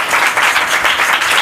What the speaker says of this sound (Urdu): آئے زوردار تالیاں ماریں